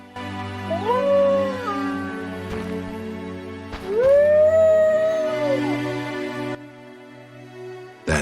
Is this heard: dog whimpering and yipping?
yes